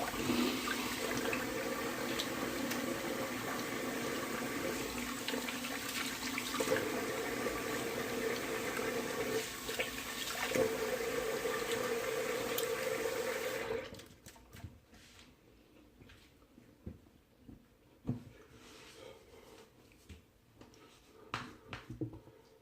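Water runs steadily from a tap for about fourteen seconds as a freshly shaved head is rinsed, then stops, leaving quieter drips and splashes with scattered handling noises.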